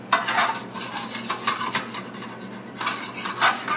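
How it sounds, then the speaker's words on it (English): Spatula scraping the bottom of a pan of ratatouille, repeated rasping strokes in uneven bursts, close and moderately loud, with no talk. "Get your little spatula and scrape it all up."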